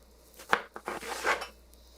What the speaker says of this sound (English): And then you have the flat piece down, and you make slices,